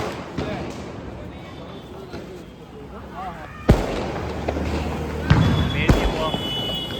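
Diwali firecrackers burst outdoors during a family celebration, giving a handful of sharp, loud bangs spaced a second or two apart amid background chatter.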